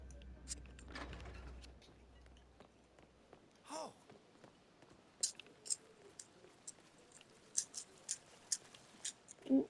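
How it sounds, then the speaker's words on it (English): Someone eats popcorn close to the microphone, making quiet, irregular crunching bites and clicky chews that speed up into a scattered run in the second half. "I'm eating popcorn now, so just ignore my chewing."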